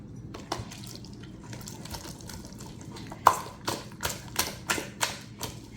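Water trickles and drips into a cloud slime mixture, a faint wet patter at first, then a run of sharper, closer drips and splats near the end, with no voices.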